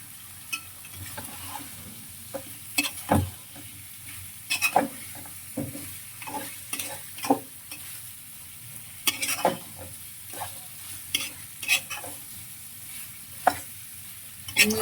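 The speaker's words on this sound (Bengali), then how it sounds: "এবার লাউগুলো ঢেলে দিলাম" Bottle gourd pieces with prawns fry and get stirred in a pan, with a steady soft sizzle broken by irregular scraping stirs and utensil knocks, close up and with no voices.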